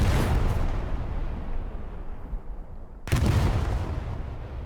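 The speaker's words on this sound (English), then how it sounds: "Watch at the end of the explosion how the debris rains down." Two heavy explosions in the World War II shooter Hell Let Loose, each a loud broadband blast that decays into a long rumbling tail as debris rains down, with the second starting about three seconds after the first.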